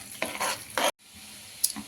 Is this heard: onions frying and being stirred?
yes